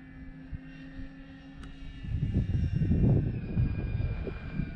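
An E-flite Beechcraft D18 RC model plane flies at a distance, its faint electric motor whine rising into a louder buzzing pass amid gusty wind.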